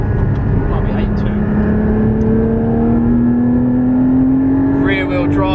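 A Porsche 718 Cayman GT4 engine revs high and loud, its pitch climbing steadily throughout, with a voice briefly talking over it near the end.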